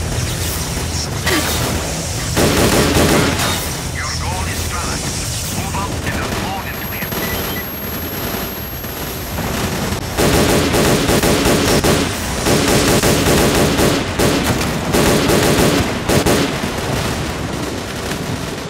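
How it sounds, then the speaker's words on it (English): In the video game S.T.A.L.K.E.R.: Clear Sky, enemies open fire from several directions in dense bursts of automatic gunfire and single shots over loud game noise, while someone talks over parts of it. "you're getting shot from every goddamn direction"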